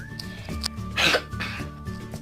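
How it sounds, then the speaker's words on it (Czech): A single person coughs and clears their throat once, a short close burst over quiet steady background game music. "budu se muset odkašlat"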